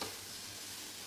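Malabar spinach flowers frying in a pan give off a faint, steady sizzle and soft stirring for a brief moment, with no voices.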